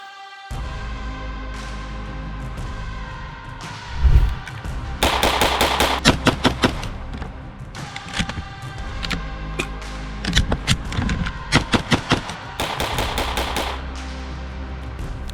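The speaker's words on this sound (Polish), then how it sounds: "Sprawdźmy zatem jaki odrzut będzie miało semi-auto w naszym przypadku i jaka będzie jego celność." Bursts of semi-automatic rifle shots crack out in quick, irregular volleys, loud and sharp, separated by short pauses, with a few heavier booms.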